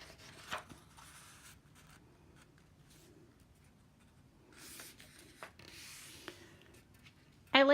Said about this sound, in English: You're going to take the bottom of the paper and bring it up to the top.